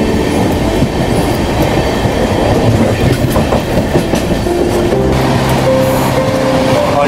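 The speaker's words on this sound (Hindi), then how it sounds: "और ये जो आप ट्रेन देख रहे हो ना, ये है उदयपुर सिटी पाटलिपुत्र हमसफ़र।" The Udaipur City–Patliputra Humsafar Express rolls past near Kota Junction, a loud, continuous rumble with rhythmic wheel clatter and a few faint squeals near the end.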